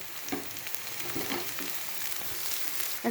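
Capsicum frying with onions in a hot pan, a steady soft sizzle and crackle running throughout with faint stirring scrapes, no voices.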